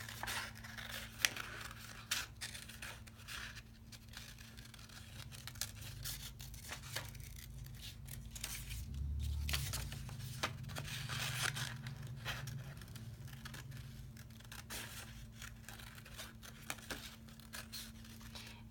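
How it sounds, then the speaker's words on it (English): Scissors snip and scrape through paper while cutting out a sunflower centre, a series of faint, close crisp cuts and rustles over a low steady hum, with no talking. "we're gonna cut out the center of our sunflowers, following on the dotted line one more time"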